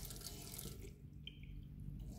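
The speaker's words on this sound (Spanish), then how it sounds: "en esa unión, cuando abro, pierde agua." Water runs and leaks from a loose, worn single-lever kitchen faucet at its joint, a steady faint splashing flow that briefly eases before resuming, heard alone without speech.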